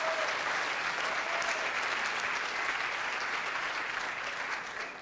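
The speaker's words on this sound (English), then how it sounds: "Let's hear it for Gita." An audience claps steadily at a gala dinner speech, a dense wash of applause from many hands that holds evenly throughout and fades slightly at the end.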